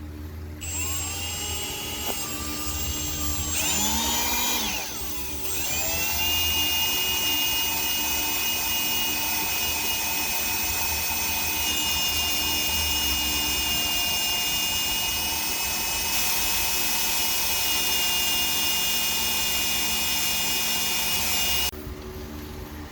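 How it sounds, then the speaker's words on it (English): A steady high-pitched drill whines continuously while boring a pilot hole during a Subaru rear subframe replacement, with a brief dip and restart early on, then runs evenly before stopping abruptly. "I finished the pilot hole and I started with the thicker bit."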